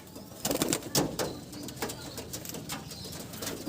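A fast-moving loft pigeon being handled flaps its wings in several quick, close bursts over soft background cooing; no talk.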